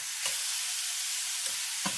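Ground beef for a homestyle casserole sizzles steadily in a pan, a loud continuous frying hiss broken by a few brief stirring scrapes.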